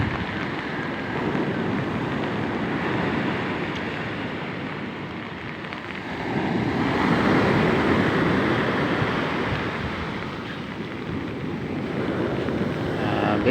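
Ocean waves, growing bigger near moored fishing boats during heavy rain, make a broad steady wash of surf and wind that swells louder midway, then eases and builds again, with no voices.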